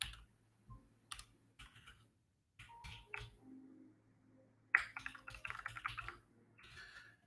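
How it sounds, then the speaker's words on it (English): Sparse clicks and short bursts of keystrokes from a computer keyboard, separated by quiet gaps, close and fairly faint, with one denser flurry of typing near the end. "So I'm going to type your name in the chat."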